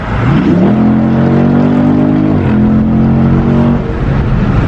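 A Dodge Charger accelerates hard, its engine note climbing loud and close through a gear change, then rising again in a sustained roar, with no talking.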